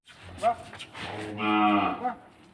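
Cattle on an agro farm raising cows for Qurbani; a loud, close cow moo swells and holds for about a second after a brief lower bellow, with no talking.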